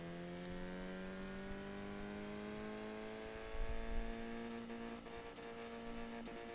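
A Bugatti Veyron fitted with a Reliant engine in Forza Horizon 3 drones with a faint, steady engine tone that slowly rises in pitch as it revs, with no one talking.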